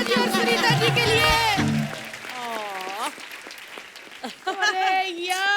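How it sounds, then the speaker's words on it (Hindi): Studio audience applause for Govinda and Sunita on a Hindi comedy talk show, a steady wash of clapping that fades, with loud voices and cheering over it. "एक बार जोरदार तालियां गोविंदा जी और सुनीता जी के लिए"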